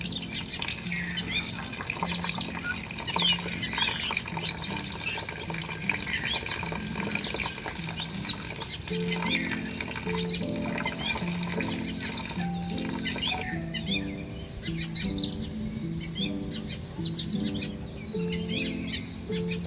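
Birds chirp and tweet outdoors in a garden with hibiscus and jasmine flowers. The calls are repeated and bright, layered over a low background hum, and continue steadily throughout at moderate loudness.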